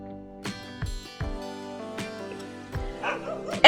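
A cartoon dog barks in an animated children's read-aloud story, giving several short, separate bow-wows over a soft musical backing, with a louder yip at the very end.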